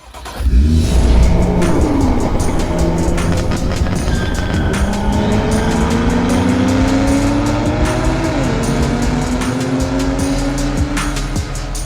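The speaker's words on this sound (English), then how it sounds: "we're going to extract the noise from both ends with an Eisenmann Race exhaust" A loud BMW E60 M5 V10 engine with an Eisenmann race exhaust and carbon fiber Eventuri plenum revs and drones continuously, pitch rising and falling through gear changes, close and alone without any talking.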